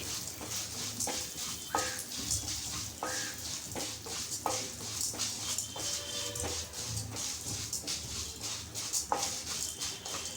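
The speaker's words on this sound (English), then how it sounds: "Now we have to add white thill also to it and then fry it." White sesame seeds fry in hot oil for a tomato onion chutney, giving a steady close sizzle with occasional clinks and scrapes of stirring and no voices.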